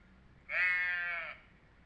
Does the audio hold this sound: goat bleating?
yes